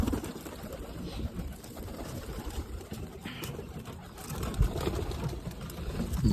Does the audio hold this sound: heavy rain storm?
no